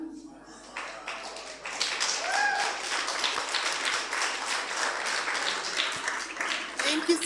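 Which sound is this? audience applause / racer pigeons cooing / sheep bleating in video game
audience applause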